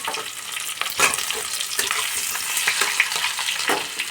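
Parboiled potatoes sizzle and fry in a hot wok for aloo dum, with continuous crackling oil and occasional stirring scrapes, close and fairly loud throughout.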